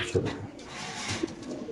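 Pigeons coo at a busy pigeon market, with a couple of low, close coos rising briefly over a murmur of people talking and trading nearby.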